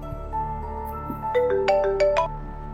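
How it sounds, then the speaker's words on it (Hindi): A phone ringtone for an incoming call plays alone in a household scene, a bright melodic electronic tune of rising and falling tones that grows busier toward the end, with a steady low hum underneath. "पता नहीं किसका फोन आ रहा है।"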